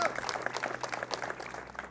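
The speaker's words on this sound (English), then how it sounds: "A round of applause for him as well." A crowd at a cultural durbar applauds briefly, scattered claps rising and falling with some background voices mixed in.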